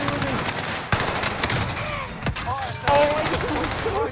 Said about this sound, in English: my riot shield just soaked up all those shots though